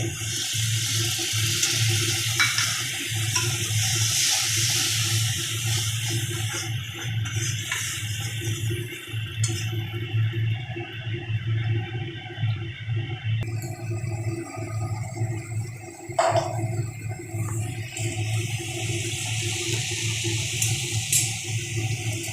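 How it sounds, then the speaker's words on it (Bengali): Water poured into a poppy seed spice paste frying in a pan for a rohu curry, a long, rushing hiss of liquid hitting hot oil and bubbling that carries on at moderate loudness, with no talking. "এবার একটু জল দিয়ে দিব"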